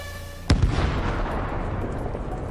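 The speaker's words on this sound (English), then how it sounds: "Look at those powerful explosions, metal fragments flying in all directions." An explosion strikes a tank on a battlefield, a single sharp loud blast followed by a long rumbling, crackling roar as debris and metal fragments scatter.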